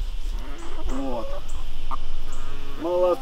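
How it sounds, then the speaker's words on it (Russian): Laying hens of mixed breeds, red, black and white, clucking at a farm apiary, a few short calls and a longer cackling phrase near the end over steady low background hum. "Вот, как видите, и красненькие несушки хорошие, и черненькие, и беленькие."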